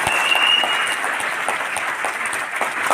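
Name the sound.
audience giving loud applause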